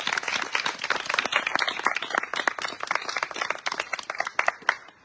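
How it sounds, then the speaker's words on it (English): A small group claps for contestants at a final tribal council, brisk close-up claps blending into applause that tapers off near the end. "So, a round of applause to all you all."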